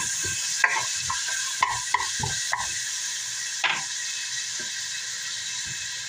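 Onion and garlic sauté in a pan for a Filipino beef mechado stew, a low sizzle under sharp spoon taps and scrapes that come in short bursts and then ease off.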